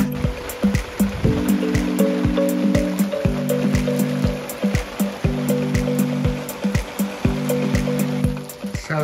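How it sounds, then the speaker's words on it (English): Hail pelts a garage roof during a hailstorm, heard from inside as a dense, rushing patter with sharp ticking impacts and a low tonal hum beneath. "I'm having to work inside the garage because we're having a hailstorm."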